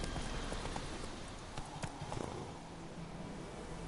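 Steady clip-clop of a horse's hooves galloping in The Witcher 3 video game, a continuous rhythmic beat under ambient game sound with no talk.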